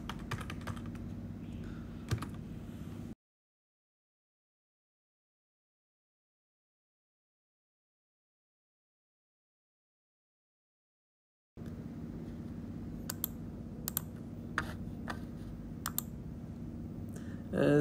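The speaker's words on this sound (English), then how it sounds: "since we have a USB keyboard, you just type in the password Khadas." Light clicks of typing on a USB keyboard at a Linux login screen, scattered keystrokes heard briefly before and after a long silent gap, soft and close over a low hum.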